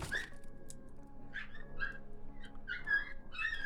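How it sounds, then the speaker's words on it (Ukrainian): Small puppies in an abandoned school whimper and yip in high, thin cries, several short whines overlapping against a steady low background hum. "Там цуценята!"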